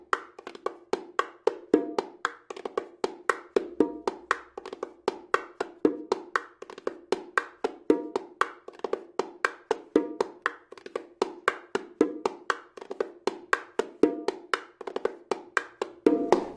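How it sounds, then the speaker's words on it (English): Bongos play a 2/4 Cuban bolero rhythm: quick, crisp hand strikes in a steady repeating pattern, close and fairly quiet, with no talking. "This is called the bolero. Now this is actually the 2/4 sort of Cuban bolero"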